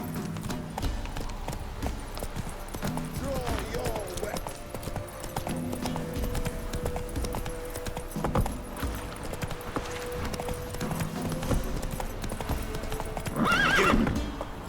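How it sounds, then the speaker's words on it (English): Hooves clop in a continuous rhythmic gallop as the horse Roach runs in The Witcher 3 video game, with a whinny near the end and faint game voices underneath. "Whoa there, Roach"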